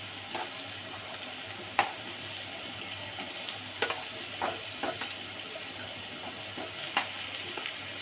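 Chopped ash gourd frying in a pan for a Bengali fish-head dish, giving a steady, even sizzle with a few sharp clicks and scrapes from stirring, close and moderately loud, with no talking.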